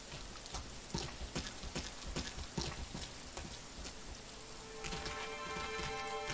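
Steady rain patters on a surface with scattered heavier drops, and a faint tonal hum rises near the end.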